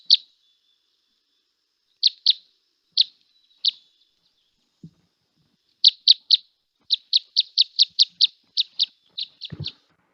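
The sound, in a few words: finch song played from a recording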